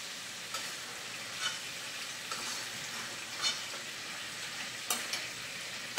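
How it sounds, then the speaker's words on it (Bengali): Prawns fry in butter with a soft, steady sizzle, close but fairly quiet, broken by a few louder spitting pops and stirring touches, no voices. "বাটারে চিংড়ি মাছ ভাজা হচ্ছে"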